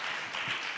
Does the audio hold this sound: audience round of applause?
yes